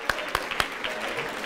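Applause from an audience at the closing ceremony of a QA software testing event, clapping in a dense, steady wash with a few sharper claps standing out near the start, fairly close and moderately loud.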